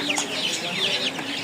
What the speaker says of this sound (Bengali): এই হচ্ছে টাইগার মুরগি, এগুলো বড় সাইজ